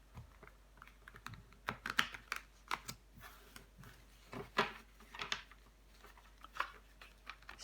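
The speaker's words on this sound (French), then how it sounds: "Si j'arrive à mélanger les cartes," Tarot cards are shuffled by hand, giving a series of soft, crisp riffling and tapping clicks in irregular bursts, quiet and close with no talking.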